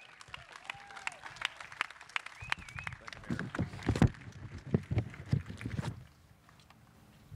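Crowd applause at the Grand Prix Motorsports Walk of Fame ceremony in Long Beach for Jim McCallion, a steady wash of clapping with scattered louder claps that swells and then stops abruptly, with wind noise on the microphone.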